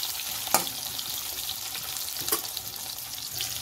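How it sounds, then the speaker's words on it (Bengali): Raw green bananas frying in oil in a pan, a dense close sizzle that runs throughout, with two sharper spatula clinks as the pieces are moved. "দেখতেই পাচ্ছি কাঁচা কলাগুলো আমি হালকা ভেজে নিয়েছি"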